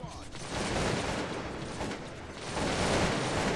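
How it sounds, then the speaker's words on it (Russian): A massed musket volley in the strategy game Cossacks 2 rolls out as a dense, continuous crackle of gunfire, loud and sustained, with a brief voice near the start. "Перезаряжаемся. Сейчас выстрелим. Стреляем."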